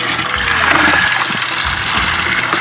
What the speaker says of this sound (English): We gotta fill these water buckets up.